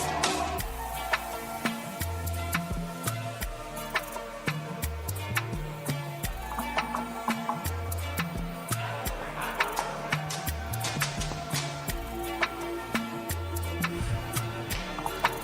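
A countdown clock-tick effect plays during a live poetry competition broadcast, steady sharp ticks running throughout beneath a repeating electronic tonal backing, moderately loud and alone without talk.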